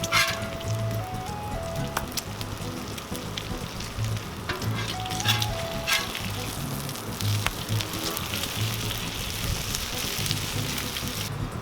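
Bacon sizzles steadily on a Cuisinart 360° griddle, a dense, continuous crackle with occasional louder pops and faint scraping, no voices over it.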